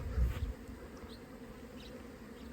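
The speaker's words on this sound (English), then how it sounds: "We got bees, we got bees" Honeybees humming around the hive on the first mild day after a big snowstorm, a soft continuous drone with one nearer buzz at the start.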